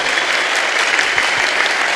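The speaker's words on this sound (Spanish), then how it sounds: "Un fuerte aplauso para ellos que se convirtieron y volvieron a la iglesia como Pablo." Steady, dense applause from a church audience fills the space evenly, loud and continuous with no break and no one talking over it.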